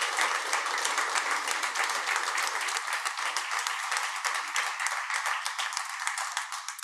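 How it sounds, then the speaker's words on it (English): An audience at a medical center groundbreaking ceremony applauds a donor, a dense, even wash of many hands clapping for about seven seconds before slowly tapering off. "Let's give another round of applause to Stoler."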